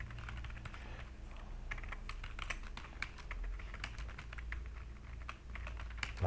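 Fingers type steadily on a computer keyboard, a dense run of close, quick key clicks lasting several seconds over a low steady hum, with no voices heard.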